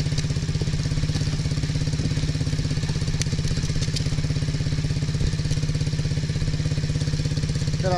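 An MRF pit bike engine runs at a steady idle up close, its low, even throbbing holding without a break and with no voices over it.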